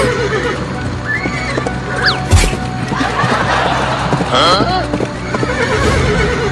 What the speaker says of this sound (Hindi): ये मेरा घोड़ा तो रुक ही नहीं रहा